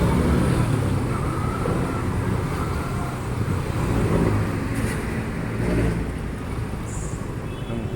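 Steady roadway noise from a long queue of cars and vehicles in Manila traffic, a continuous close rumble with engines swelling and easing, no talk over it.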